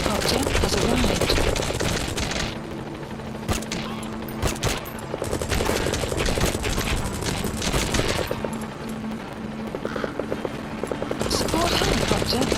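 A support helicopter arriving in Metal Gear Solid V: The Phantom Pain, with a loud continuous rotor chop over a busy mix of gunfire bursts and action noise, and a voice speaking intermittently throughout.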